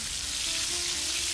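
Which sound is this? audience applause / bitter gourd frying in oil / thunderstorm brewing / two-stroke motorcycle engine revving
bitter gourd frying in oil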